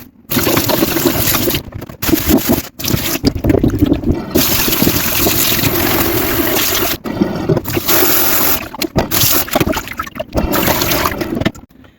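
Vegetables such as capsicum and coriander are rinsed under a running tap in a Pakistani home kitchen, with a loud, steady rush of water broken by brief pauses and splashing as the produce is handled.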